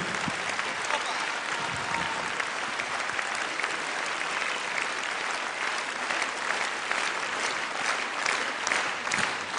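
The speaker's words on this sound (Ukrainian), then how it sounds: "ваші оплески" An audience applauds after an opera duet, dense sustained clapping filling the whole stretch at an even level with faint voices mixed in.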